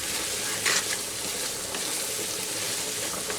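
A spoon stirs banana flower curry with sugar and salt in a hot pan, mixing under a constant dense sizzle with a brief clatter early on.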